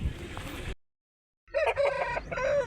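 A large rooster of about 3.5 kg crows at the Gudur poultry market, a loud, close, drawn-out call that follows a burst of market din and a brief silence.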